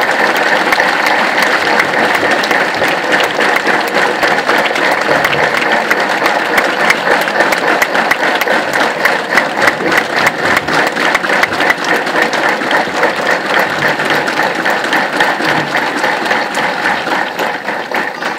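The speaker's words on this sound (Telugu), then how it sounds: "అందుకే చప్పట్లు కొట్టండి స్వామి వివేకానందుని కోసం." A large audience at a youth gathering claps continuously for Swami Vivekananda, a dense, loud, sustained wall of applause lasting the whole stretch.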